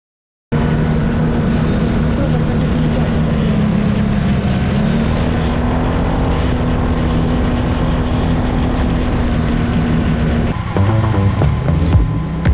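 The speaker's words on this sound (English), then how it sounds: "Open space requires bigger drone and faster one. Now Protek 60 Pro." A Protek 60 Pro FPV drone flying in open space, its motors producing a steady, loud buzzing whine that holds for several seconds before the pitch shifts and wavers as it maneuvers near the end.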